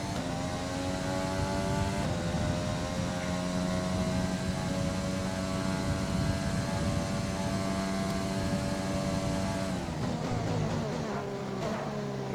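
Formula 1 race car engine in a racing video game held at full throttle, a loud, steady high-pitched whine with rising harmonic sweeps as it revs through gears, briefly dipping near the end before climbing again; no talking.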